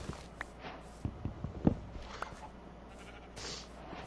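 A Minecraft sheep gives a few short, soft bleats over faint footsteps and light game ambience, with quiet gaps in between.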